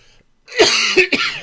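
A man coughs close to the microphone, a short burst of two or three rough coughs after a moment of quiet.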